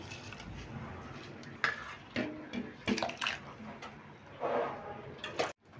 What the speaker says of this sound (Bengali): এবার আমি দিয়ে দিচ্ছি ফুটন্ত জলে, আমি চালটা দিয়ে দিচ্ছি